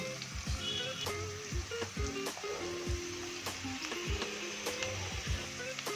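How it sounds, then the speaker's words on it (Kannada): Onions fry in a pan for egg chops, a busy crackling sizzle broken by regular clinks and scrapes of a spoon stirring against the metal, close and steady. "ಈರುಳ್ಳಿ ಚೆನ್ನಾಗಿ ಫ್ರೈ ಆಗಬೇಕು."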